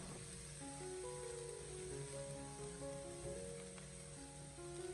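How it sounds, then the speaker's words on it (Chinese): Minced garlic stir-fries in hot oil in a wok over low heat for stir-fried pumpkin, a faint, steady sizzle under quiet background music. "开小火，先把蒜末翻炒一下，将蒜末给它煸炒出香味"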